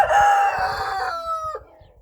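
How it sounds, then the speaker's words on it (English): A rooster named Blackie crows once, loud and close, in a long drawn-out call that fades out at the end, with soft rustling and clucking from the flock underneath. "when they crow like that, they're supposed to be telling everybody this is my territory"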